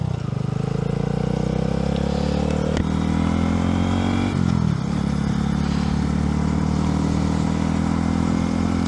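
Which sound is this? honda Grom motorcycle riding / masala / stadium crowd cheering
honda Grom motorcycle riding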